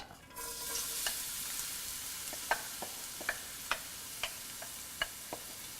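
Chopped onions and whole spices sautéing with salt in a pan, a soft steady sizzle broken by sharp clicks of a spoon tapping and stirring against the pan.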